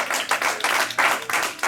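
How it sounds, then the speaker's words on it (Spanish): Congregation applauding in a church service, a dense, loud wash of many hands clapping in uneven surges that swell and dip without pause. "Denle fuerte ese aplauso"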